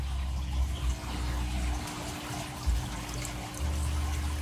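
Water circulating and spilling through a DIY vertical crab fattening box, a steady close trickle and pour with a faint pump hum underneath.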